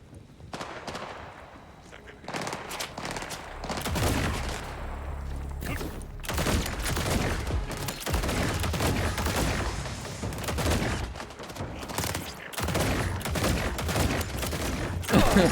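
Repeated gunfire from a sniper-style weapon in Borderlands 4 on Hard difficulty, bursts of loud shots and impacts running almost continuously over game effects and music.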